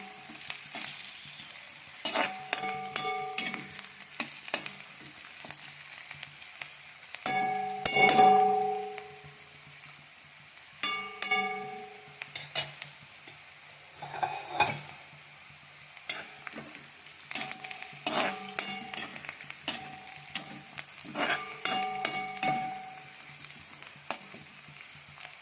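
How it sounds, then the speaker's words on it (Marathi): Onions frying in a pan for a Kolhapuri-style soya chunk and potato curry, with steady sizzling and repeated scraping stirs of a spoon in bursts throughout. "आता मी हे आपला कांदा लाल होत आलेला आहे, तरी मी याला हलवून घेत आहे।"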